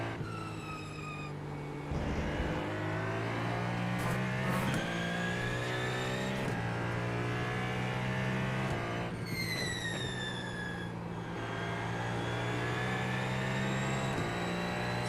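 A GTP hypercar races around Spa in iRacing, its engine holding a steady high-pitched drone that climbs through the gears, punctuated by brief shift drops and repeated revving.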